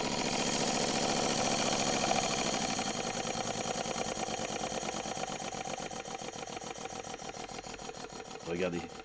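A Stuart D75 V steam engine runs with a dense, steady chuff of rapid mechanical beats that slowly ease and space out toward the end, ending with a brief louder burst.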